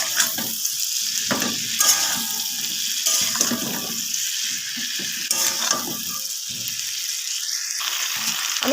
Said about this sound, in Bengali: আমি ঢাকা দিয়ে ফুলকপিটা ভাজবো।